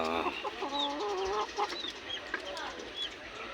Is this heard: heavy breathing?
no